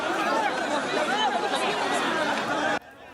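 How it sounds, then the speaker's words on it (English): A crowd swarming around vans carrying captives out of Gaza, a dense, excited chatter of many voices shouting and calling out together, cutting off abruptly near the end. "As some of the captives were being escorted out of Gaza, a crowd swarmed around the vans they were in."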